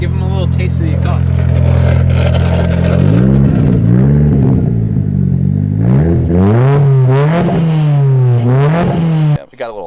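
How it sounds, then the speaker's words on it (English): A Z car's exhaust is revved hard several times, each climb in pitch rising and falling in steady waves, loud and close, with some people talking over it before it cuts off abruptly at the end. "Give them a little taste of the exhaust."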